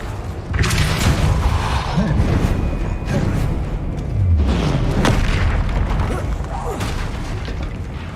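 In Hogwarts Legacy, fire spells such as Incendio are cast in a busy duel, producing repeated loud whooshing booms and heavy thumps that run dense and close, with a voice talking over them.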